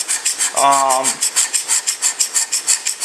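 A hand scraper pushed hard across a metal surface during hand scraping, giving a quick run of rhythmic rasping strokes, close and fairly loud, with a brief voiced sound partway through.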